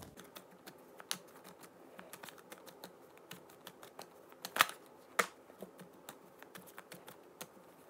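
Oracle cards are shuffled and cut on a table, a quiet run of light papery flicks and taps with two sharper snaps, alone and close.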